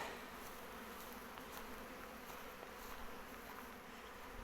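A honeybee swarm buzzes near a hive, heard from a distance as a faint, steady, dense drone with no voices.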